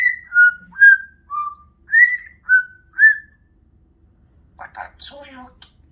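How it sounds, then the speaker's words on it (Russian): A person whistles seven short, clear notes in a simple tune. A brief burst of voice follows. "А так мама некрасиво свистит."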